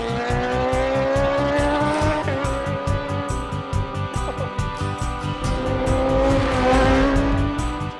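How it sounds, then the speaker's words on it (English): A high-speed racing motorcycle roars past at a motorcycle race, its engine note climbing and holding steady for the whole eight seconds, loud, close and sustained, with sharp harmonic pitch shifts as it accelerates. "high-speed motorcycle racing."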